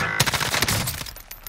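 A minigun fires in the Warzone Rebirth Island video game, a rapid, dense burst of gunfire rattling for about a second before tapering off, close and loud.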